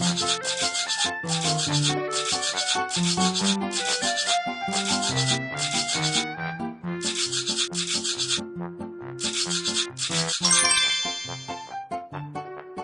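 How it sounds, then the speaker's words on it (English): Cat toothbrushing in a pet-care video game gives a run of rhythmic, scratchy brushing bursts over a bright, tinkling game melody, the scrubbing stopping near the end as chimes ring out. "Now brush Candy's teeth until they are clean."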